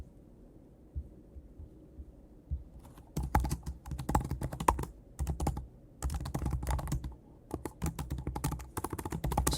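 Rapid clicking of keys on a computer keyboard as code is typed, close and clear, in irregular bursts with brief pauses after a quiet start, with no talking.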